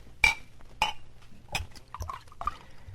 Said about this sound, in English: Leave it on the bar, Harry. We'll pour our own